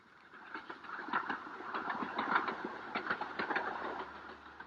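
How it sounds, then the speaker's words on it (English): Little 2-foot gauge railway train climbing toward Darjeeling in the Himalayan foothills, a chugging, rattling rumble with rhythmic clanks and puffs, close and steady throughout. "the little 2-foot gauge railway which puffs and grunts its way up towards the Himalayan foothills"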